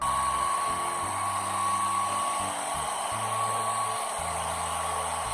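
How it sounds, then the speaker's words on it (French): A hair dryer blows with a steady whine, its motor pitch shifting up and down as the setting or angle changes. "il faut que j'aille le sécher au sèche-cheveux"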